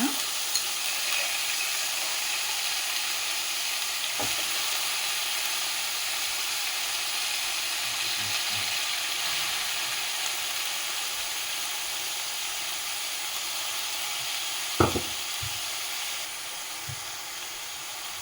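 Shredded cabbage, washed in salt water, sizzles steadily in a hot pan for a chapati roll filling. The frying hiss stays even throughout, broken by a few scraping stirs and a sharp clink of the spoon against the pan.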